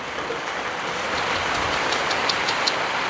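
Steady rain falls outdoors beside a parked motorbike, a dense, even hiss of drops that swells slightly louder after the first second and continues without pause.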